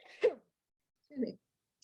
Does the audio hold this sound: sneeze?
yes